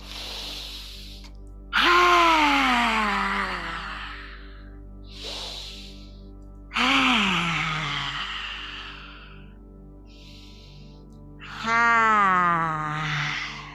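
Three loud, open-mouthed lion's breath exhales during a yoga session, with a voiced groaning release, each falling in pitch, separated by quieter breathing and short inhales.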